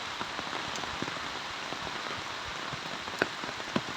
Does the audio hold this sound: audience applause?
no